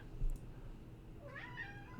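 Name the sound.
cat meowing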